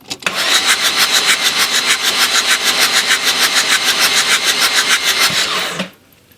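A car engine being started while troubleshooting a problem motor cranks steadily with a rhythmic, even whirring of the starter for about five seconds without catching, loud and close, then stops abruptly.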